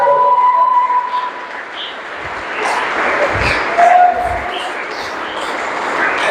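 A church congregation applauds and cheers at a Sunday service, a loud, continuous crowd roar of clapping and shouted voices that swells and eases.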